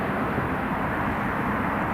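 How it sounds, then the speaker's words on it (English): An Italian Air Force C-27J Spartan turboprop comes in to land at Newcastle International Airport, heard as a steady, broad engine roar with no voices over it. "He's going to do a short field landing here."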